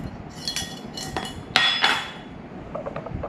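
Metal spoon clinking and scraping against a pot of ginger and sugar being stirred on a stove, a few sharp clinks with softer scrapes between, moderately close with no talking.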